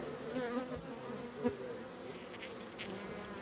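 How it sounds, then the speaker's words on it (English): Honeybees and a drone buzz inside an open beehive during an inspection, a steady close hum of many wings with a louder drone passing near and a few soft knocks. "That's the drone again."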